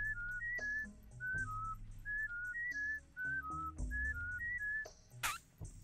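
A character in the Oddworld: New 'n' Tasty video game whistles a short melodic tune of rising and falling notes over a low game soundscape, ending with a brief sharp burst.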